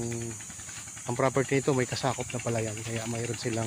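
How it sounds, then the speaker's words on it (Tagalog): Water running steadily in a concrete irrigation channel beside rice fields on a farm lot in Lumban, Laguna, a soft continuous hiss heard under someone talking close by. "Ayan po ang patubig mga kaprops yung katabi natin."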